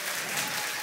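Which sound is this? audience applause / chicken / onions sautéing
audience applause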